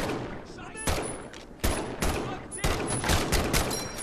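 Rapid M1 Garand rifle fire in Medal of Honor: Above and Beyond, a VR game, with several sharp, loud shots in irregular bursts and ringing tails between them.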